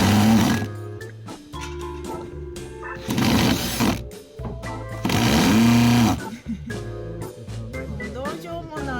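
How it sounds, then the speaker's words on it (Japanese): A power drill whirs and rattles in loud bursts while fitting tiles to a wall in an 80-year-old house, stopping and starting several times, with a voice talking in between. "もうドリルがブルブル言っちゃってもういいこれ"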